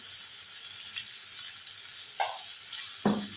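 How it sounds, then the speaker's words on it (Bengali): Paneer sautéing in a pan, a soft steady sizzle with a few brief scraping stirs near the end. "একটু সতে করে নেবো, একদম যে লাল করে ডিপ করে ভাজবো তা না"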